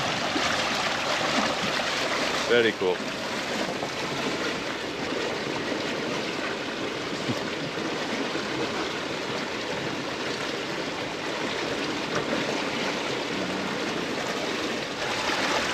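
Steady broadband rush of water churning behind a quiet electric dinghy carrying a 500-pound load, continuous and fairly close with no motor tone standing out, a brief soft voice near the start.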